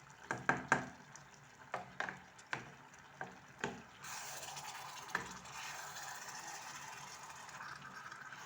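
Tomato paste and chicken fry together in a pan, first with a run of sharp scraping stirs, then settling into a steady close sizzle that carries on alone to the end.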